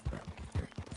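Hoof clops from a horse in a PS4 video game land in a quick uneven series of about six soft thumps, close by and fairly muted, with no voices over them.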